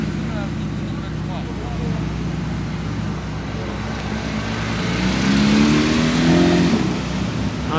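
A Mercedes G63 driving past at night in Monaco, with a low engine rumble that grows louder as it approaches under steady traffic noise while someone talks over it.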